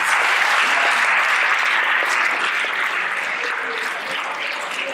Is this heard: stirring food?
no